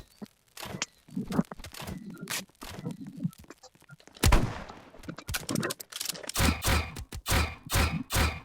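Gunfire rings out in irregular sharp cracks and bursts, some in quick clusters, growing denser and louder toward the end, with thuds and rustling between shots.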